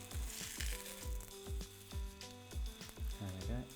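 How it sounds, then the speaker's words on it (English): Savoury pancake sizzling loudly in a hot non-stick pan as it is flipped, with a steady frying hiss broken by repeated thumps and scrapes of the turn. "and now we're going to flip it"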